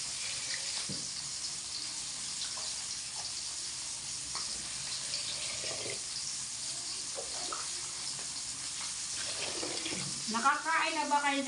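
Water runs steadily from a tap while fish is rinsed in a colander, with occasional clinks and splashes; a voice speaks briefly near the end.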